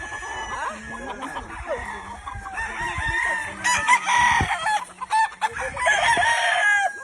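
Chickens cluck and chatter continuously while roosters crow repeatedly at moderate distance, a busy, layered farmyard chorus.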